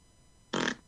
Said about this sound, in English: Now he's just having a fart.